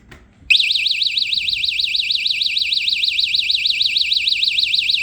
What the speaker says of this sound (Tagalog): so the contacts inside will close, so the alarm will sound